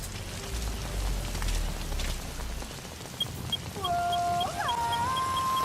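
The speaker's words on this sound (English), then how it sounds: "the rain and mist does make visibility a little low" Steady rain falls across an outdoor scene in the video game Metal Gear Solid 5, a dense even hiss throughout, joined toward the end by soft beeping interface tones and rising electronic chimes.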